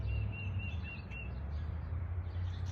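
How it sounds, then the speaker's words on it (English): Birds sing in town in spring, with a few thin chirps and short tweets over a loud low rumble of traffic or wind. "anywhere that you live, there's birds. You just go out and listen."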